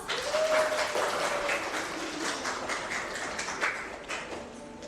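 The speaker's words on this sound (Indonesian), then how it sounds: "Kita berikan aplaus." Audience clapping at an online university teaching quiz session, a steady broadband patter of many hands lasting throughout, moderately loud and without talk.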